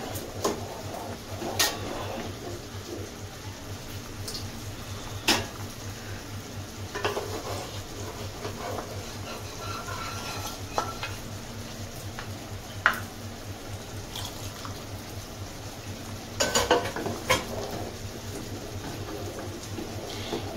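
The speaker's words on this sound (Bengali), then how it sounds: "এই কড়াটা ধুয়ে আমি একটুখানি জল এর মধ্যে দিয়ে দেব।" A wok holding spice paste with a little water added, stirred with a utensil: soft simmering texture under scattered scrapes and clinks of metal against the pan, close by, with no talking.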